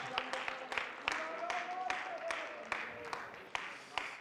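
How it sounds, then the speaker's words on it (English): A church congregation claps hands in a quiet, uneven run of sharp individual claps over a low background of voices and sustained singing or talk. "If you believe that, clap your hands."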